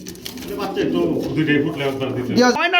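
Pigeons coo in short, throaty bursts close by at a pigeon sale, mostly under a person talking, with a clearer coo at the end.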